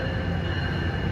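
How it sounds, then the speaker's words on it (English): A New Jersey Transit train rolls through Newark Penn Station during evening rush hour, a steady, dense rumble with a faint high whine held across the whole moment. "here comes another one of those high-wheeling transit trains"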